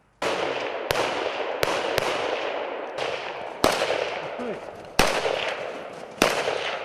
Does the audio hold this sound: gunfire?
yes